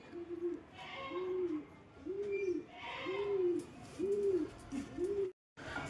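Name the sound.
female pigeon cooing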